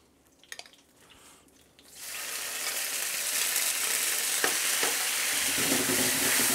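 Garlic fries in a pan as a sauce is stirred for spaghetti all'assassina. A few faint clicks come first, then a loud, steady sizzle swells in and holds close, with no voices.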